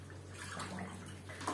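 Whole ducks lowered into a pot of water marinade, a soft close splashing and sloshing of liquid with small trickles, quiet and continuous, ending in a brief brighter splash.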